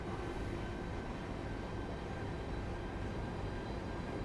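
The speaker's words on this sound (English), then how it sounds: "That's a train." A passing train in the Train Sim World 5 game on a London commuter route, a steady, dense rumble with rail noise holding at even loudness throughout and no talk over it.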